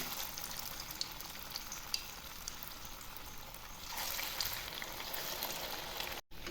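Fish pakoras frying in hot oil in a kadai, a steady close crackling sizzle that thickens and brightens partway through, with a few faint clicks over it.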